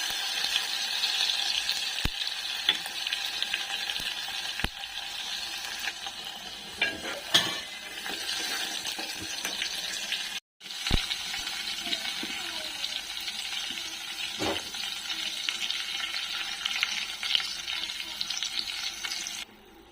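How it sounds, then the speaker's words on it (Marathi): Cumin, mustard seeds, curry leaves and chopped garlic sizzle and crackle in hot oil, a steady close frying hiss broken by sharp pops and occasional spoon or pan clinks, with no voice over it. "आता आपल्याला जिरे मोहरी टाकायचे. कढीपत्ता आणि लसूण खोबरं टाकायचे बारीक केलेलं."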